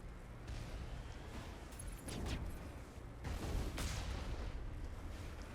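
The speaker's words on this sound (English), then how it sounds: "Who's still shooting me?" Gunfire from the Mass Effect Legendary Edition video game, a dense continuous barrage of shots with heavier bursts swelling around the middle, steady and fairly loud throughout with no talk over it.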